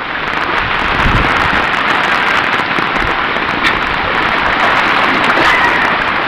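Strong typhoon floodwater rushes past amid heavy rain, a loud, dense, continuous roar of water close by with no breaks.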